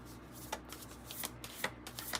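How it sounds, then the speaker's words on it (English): Tarot cards are shuffled close up in quick, soft riffling bursts, a series of papery flutters and taps repeating over a couple of seconds. "You would think that this deck's actually easier to shuffle than this one."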